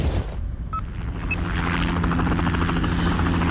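A helicopter arrives with a loud, steady rotor rumble and drone that holds throughout, heard alone without any talk.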